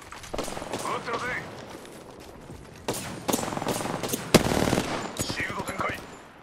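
Bursts of automatic gunfire in the Apex Legends video game, with sharp cracks and rattling volleys coming and going, mixed with speech and game voices.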